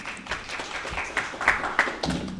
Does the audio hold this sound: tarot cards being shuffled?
no